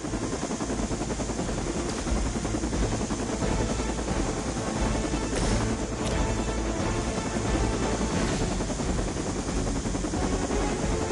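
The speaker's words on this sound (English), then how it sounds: "That helicopter's about to take off" A video game helicopter taking off, its rotor drone churning continuously at a steady level, a dense thrumming noise with no voices over it, from Marvel's Midnight Suns.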